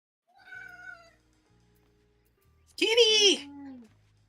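A cat meows twice, close and fairly loud, with a short rising cry followed by a longer drawn-out call, while a person speaks quietly in between.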